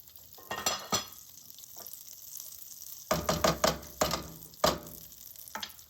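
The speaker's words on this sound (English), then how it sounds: "I'm going to take about a tablespoon of butter, get it melted in the pan." About a tablespoon of butter melts in a pan with a quiet sizzle, broken by bursts of scraping and clinking utensil strokes close by.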